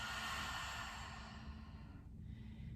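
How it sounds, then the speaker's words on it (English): Slow, steady exhale through the nose during prenatal yoga breathing, a soft breathy rush that fades gradually over a few seconds, close and quiet with no talking. "Take a few nice breaths. Inhale through your nose. Exhale."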